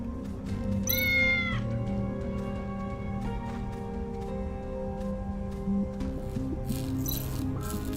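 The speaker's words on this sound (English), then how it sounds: "Pure black cat, right?" A pure black cat in the Tales of the Neon Sea video game gives a clear, rising meow near the start, set over a steady hum of game music and ambience.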